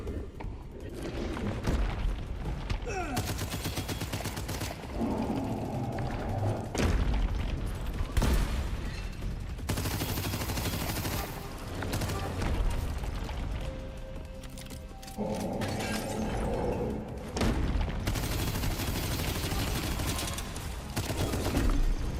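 Rapid bursts of gunfire ring out while shooting a large enemy in the FPS roguelite game Abyssus, steady and loud throughout with booming impacts mixed in.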